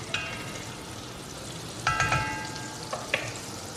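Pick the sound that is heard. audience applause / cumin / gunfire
cumin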